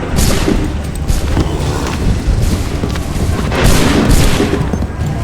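Musket and cannon volleys fire in the Assassin's Creed 3 video game, a loud, continuous roar of overlapping gunshots and deep booms that swells and rolls for several seconds.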